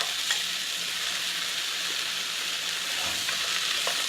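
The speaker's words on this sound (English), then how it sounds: "I'm going to add the butternut squash" Butternut squash fries in a skillet, a steady close sizzle and hiss of oil with faint scattered pops and a few light stirring touches, no voices.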